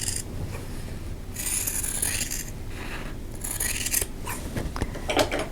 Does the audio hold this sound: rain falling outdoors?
no